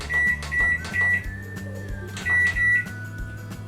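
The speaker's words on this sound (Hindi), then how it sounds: "अब हम माइक्रोवेव को प्रीहीट करते हैं।" A microwave oven set to convection preheating to 200 hums at a constant low pitch, with a fan whirring steadily and a few short electronic beeps layered over the run, loud and close.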